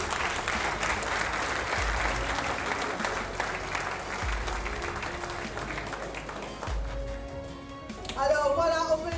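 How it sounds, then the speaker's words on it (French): A crowd at a cooking competition final applauds members of the Mauritius chefs' association with strong, sustained clapping that tapers off, as a voice starts speaking and music rises near the end. "alors voilà, on peut les applaudir."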